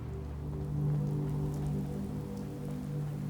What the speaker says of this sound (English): So you can see it's raining